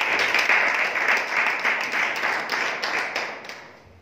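A church congregation at an evangelism programme breaks into sustained applause, dense overlapping clapping filling the room and fading slightly toward the end.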